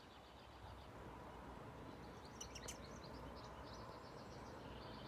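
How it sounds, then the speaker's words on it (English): Faint, distant morning birdsong with a few scattered chirps over a steady outdoor hiss. "You hear the birds?"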